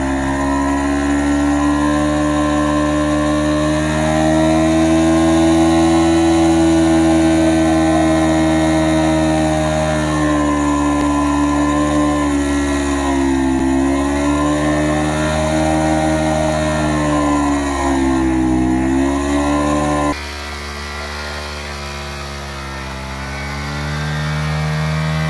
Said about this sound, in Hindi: शोएब भाई अब यहाँ पे देखिए बर्न आउट मार रहे हैं